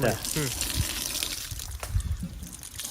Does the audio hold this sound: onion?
no